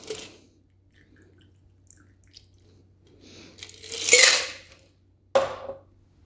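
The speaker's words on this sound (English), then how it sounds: "we're gonna go ahead and strain that into a old-fashioned glass" Old fashioned cocktail strained into an old-fashioned glass over ice, with soft clinks and trickling after a quiet start, a louder pour swelling around the middle and a sharp ice clink near the end.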